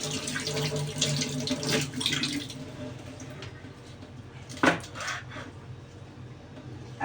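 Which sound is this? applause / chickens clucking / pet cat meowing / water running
water running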